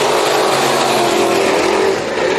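Race cars in a heat race at Bakersfield Speedway roar continuously and loudly as several engines run close together through the turns.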